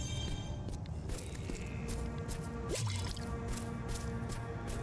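Water drips inside a tomb in Diablo Immortal, soft wet plinks and squishes spaced out over a steady low ambient hum, faint and close.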